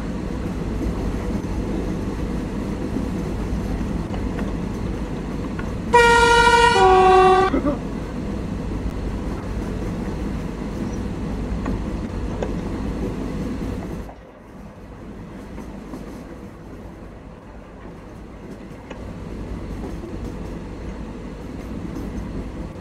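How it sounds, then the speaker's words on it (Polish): A train in a video game rolls along with a steady mechanical rumble, then sounds a loud, multi-tone horn for about two seconds before the running noise drops away to a quieter hum. "E, naprawdę, tak jak prawdziwy pociąg."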